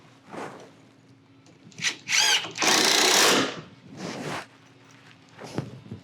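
A power drill drives a 1 3/4 inch screw through a shelf bracket into the wall for a reclaimed wood floating shelf, with two quick whirring bursts and then a longer, steady spin. Light handling noises come before and after.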